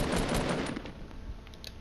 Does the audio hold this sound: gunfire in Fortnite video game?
yes